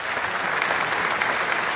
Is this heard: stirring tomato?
no